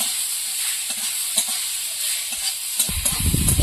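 Star fruit cooking with turmeric and salt in a hot pan, giving a steady soft hiss and sizzle, with a louder burst of stirring and frying noise near the end.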